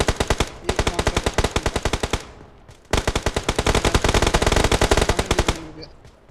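Automatic rifle fire in the shooter game PUBG Mobile: loud, rapid bursts of shots, one burst of about two seconds, a short pause, then a longer sustained burst, with no talk over it.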